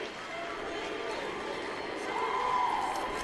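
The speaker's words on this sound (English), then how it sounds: "you can hear the Montini fans cheering" Montini high school football fans cheering in the stands, a steady distant crowd roar that swells slightly near the end.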